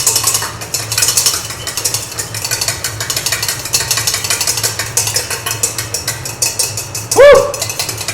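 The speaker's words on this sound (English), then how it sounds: "I'm not going to whisk egg whites by hand completely" Egg whites whisked by hand in a bowl for a chocolate soufflé, a steady fast scraping and clinking of the whisk against the bowl running throughout, close and fairly loud, with a brief sharper clatter near the end.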